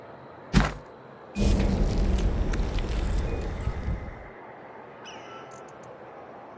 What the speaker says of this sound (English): If you're seeing some unexpected fireworks this evening, don't be surprised. That's the explosion of one of our